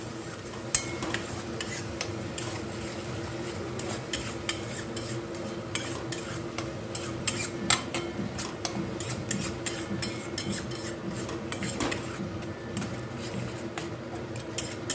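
Malvani masala sautéed in oil over medium heat for a tomato saar, with a spoon scraping and stirring in a busy, irregular rhythm over a low, steady sizzle, close and fairly quiet, no voices.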